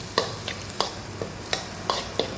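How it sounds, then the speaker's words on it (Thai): Pounded chili and garlic stir-fried in hot oil in a wok, with steady sizzling and sharp scrapes of a spatula at a quick, uneven rhythm, close by. "น้ำมันเริ่มร้อน ก็จะใส่พริกกับกระเทียมที่เราโขลกไว้"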